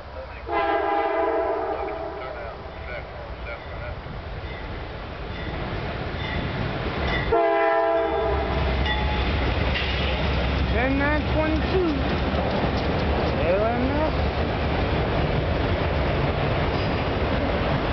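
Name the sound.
CSX freight train passing with horn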